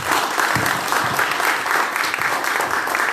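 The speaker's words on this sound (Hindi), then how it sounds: "वंदना मैम के लेवल के हिसाब से ताली बजाई जाए।" A seminar audience applauds with steady, dense clapping that fills the room, even and sustained throughout.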